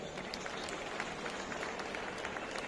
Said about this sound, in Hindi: मैं चाहता हूं उनके लिए भी एक बार तालियां बजाएं।